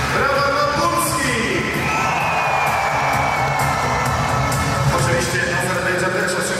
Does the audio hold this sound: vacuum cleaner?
no